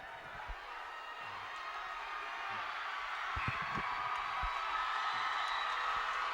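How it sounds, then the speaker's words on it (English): A high school crowd cheers from the stands at a semifinal soccer game, a distant, steady roar building slightly, with occasional thumps and faint voices mixed in. "You can hear the cheers from the Lancer crowd down to our left"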